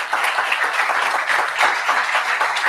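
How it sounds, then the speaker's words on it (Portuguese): A church congregation at a communion service applauds in a dense, sustained wash of clapping, loud and even from start to finish with no voices standing out. "Dê um aplauso a Jesus."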